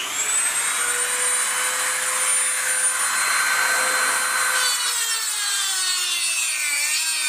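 A cutting tool grinds steadily through hard Kawasaki steel, a continuous high-pitched whining rasp with tones that drift lower toward the end, close and loud without pause.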